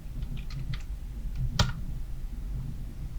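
A few soft keyboard keystrokes and clicks while working in Adobe After Effects on a computer, with one sharper, louder key press standing out near the middle over a low steady hum.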